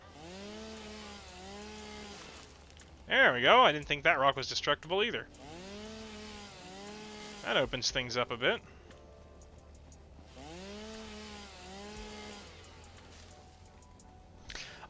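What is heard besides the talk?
chainsaw cutting trees in a video game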